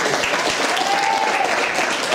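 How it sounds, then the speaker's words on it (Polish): Steady applause from a crowd at a sports club's preseason team presentation fills the whole moment, even and sustained, with no pauses. "proszę bardzo, brawa."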